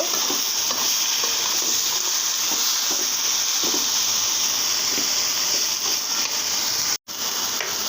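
Leafy greens (bottle gourd leaves/shak) frying in a pan with oil, onions and spice paste, giving a steady loud sizzle with stirring scrapes throughout and a brief dropout near the end, no talking.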